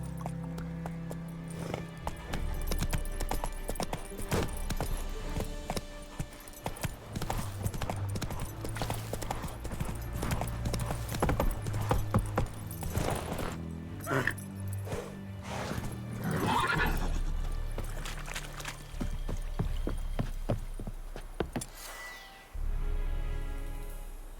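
Horse hooves trotting in the video game The Witcher 3, a rhythmic clip-clop running steadily throughout with occasional whinnies, set against background game ambience.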